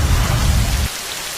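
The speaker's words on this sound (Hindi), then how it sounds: "बारिश के आने से" Heavy rain pours loudly with a deep rumble of thunder that cuts off partway through, leaving the steady hiss of rainfall alone.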